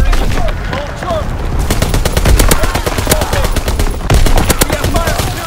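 Rapid automatic gunfire in a World War II shooter match on the Shipment map, sustained volleys of sharp cracks with short gaps, loud and close, with faint radio-style voices mixed in.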